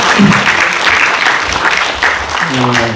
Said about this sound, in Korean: 우리가 13분이나 초과해서 발표를 해주신 홍재일 씨분께 박수 부탁드립니다.